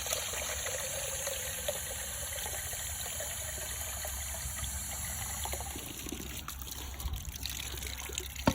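Water pours and trickles into a waterer for baby Rhode Island Red chicks, a steady close liquid stream that gushes a little louder near the end, with no talk.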